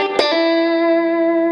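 An electric guitar pentatonic lick played at full speed through distortion and reverb, opening with a sharp picked attack and a quick second note, then one loud, steady, ringing sustained note.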